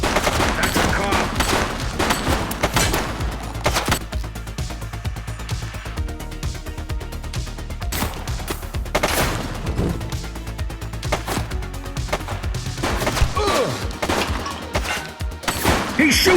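Gunfire crackles through a police shootout in the video game The Precinct, with dense bursts of loud, close shots and rapid automatic volleys repeating across the scene.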